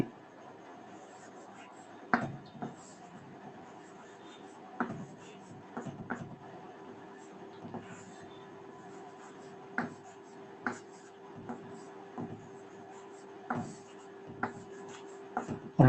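A sentence being written on a board during a Bengali grammar lesson, heard as chalk strokes and taps that come in short, irregular bursts against a quiet room with a faint steady hum.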